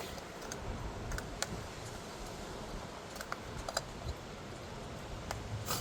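Ignition wire connectors are pressed onto a Hyundai Elantra 2.0-litre engine during spark plug and valve cover work, giving several faint, sharp clicks scattered over a steady background hiss.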